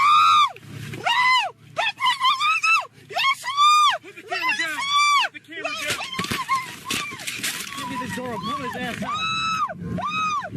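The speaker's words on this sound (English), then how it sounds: "He is screaming like a woman." A man screams during a police arrest after his car window is smashed, giving repeated loud, high, wailing cries in bursts, close and alone, with a few moans and gasps in between.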